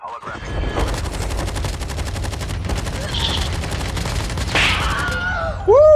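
Rapid automatic gunfire from the mobile shooter Call of Duty Mobile in battle royale mode, a dense burst of repeated shots running steadily through the clip over a low rumble, with faint voice chat underneath.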